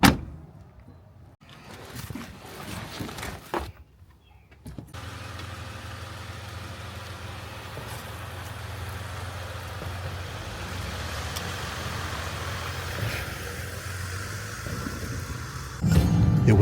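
An overland vehicle pulls away at the start of a long road trip toward a remote overland route, giving a steady mid-pitched engine drone with road rumble after a few seconds of quieter shuffling, with no talk.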